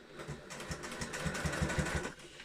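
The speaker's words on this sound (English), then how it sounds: "So I'm just going to go to my longest stitch" A sewing machine set to its longest stitch bastes bag lining and exterior pieces together, a close, steady whirring with regular rhythmic thumps from the needle running throughout.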